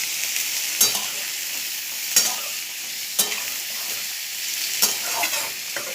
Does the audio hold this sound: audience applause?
no